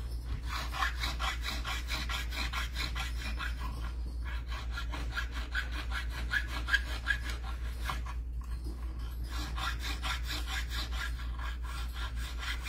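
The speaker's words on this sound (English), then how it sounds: "So for the inside of this, you're going to want to use a half round file." A half round file rasps the inside of a metal die in rhythmic back-and-forth strokes, close and even, over a constant low hum.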